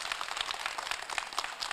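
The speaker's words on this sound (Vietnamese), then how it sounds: "chúng tôi cũng sẽ dành cho bạn thêm một tràng pháo tay nữa" A studio audience on a Vietnamese television show gives a short burst of applause with dense, crackling claps throughout, fairly faint.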